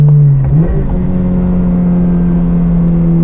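A Subaru BRZ/Toyota GR86 sports car drones loudly from inside the cabin, its engine note rising briefly as it shifts, then holding a steady, even pitch while under way.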